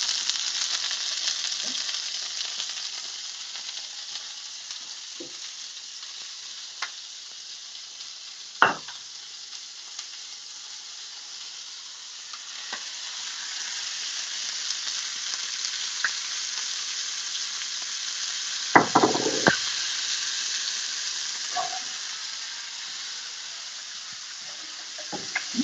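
Cherry tomatoes sizzle in a pan alongside salmon, a continuous loud frying hiss with occasional pops and clatters of a utensil.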